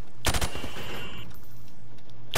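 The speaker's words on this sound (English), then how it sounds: "Now, shoot at the targets while firing from the hip." Rifle shooting at targets in Call of Duty Modern Warfare Remastered: a quick burst of several close, sharp shots early on, then a single shot at the end over a low steady hum.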